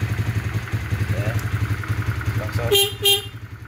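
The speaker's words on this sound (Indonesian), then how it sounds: "Klakson aktif" Horn of a 2007 Honda CBR motorcycle honks twice near the end, loud and close over the steady patter of the idling engine, with no talk.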